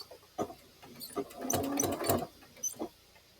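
A sewing machine stitching quilt binding runs in a short quick burst of back stitches, its rapid mechanical clatter soft and close, with a few scattered clicks before and after.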